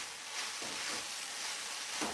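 Grated coconut and sugar cooking over medium-low heat in a pan, a soft, steady sizzle and hiss that runs unbroken, with no voices.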